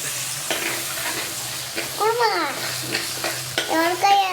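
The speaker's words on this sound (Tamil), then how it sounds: "கொஞ்சம் பச்சை கருவேப்பிலை போட்டுருங்க போட்டு நல்லா வணக்கணும்" Fresh curry leaves frying in a pan for a kofta curry, with a steady hot sizzle and a few bursts of crackling and spattering as the leaves hit the oil, plus some stirring.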